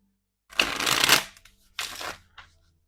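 Oracle cards being shuffled in two close, crisp riffling bursts, the first longer, followed by a short final flick, with no talking.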